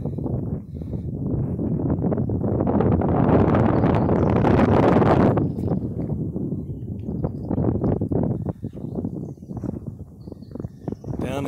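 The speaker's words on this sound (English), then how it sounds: "It's a little windy out." Wind at Capulin Volcano in New Mexico roars across the microphone in loud, steady buffeting gusts. It is heaviest through the first five seconds, then eases into choppier, uneven rushes.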